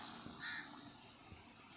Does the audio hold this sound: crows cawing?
yes